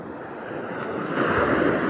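Ocean waves roll onto a beach in La Union on a sunny morning, a broad rushing wash that swells louder toward the end, with some wind noise on the microphone and no talking.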